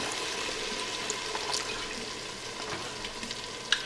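Wine splashes into a hot pan for a fire-roasted marinara sauce, producing a continuous bubbling sizzle with small crackles and pops near the end.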